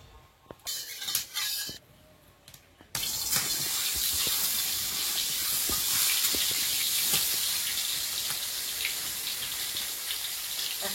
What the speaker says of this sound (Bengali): কড়াই একটু তেল দিয়ে দেবো, আগে মাছটা ভেজে নিই